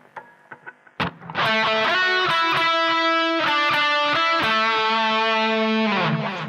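After a few quiet plucks, an electric guitar plays the sustained, singing harmony line of the final solo of a song with a gritty, distorted tone, loud and close.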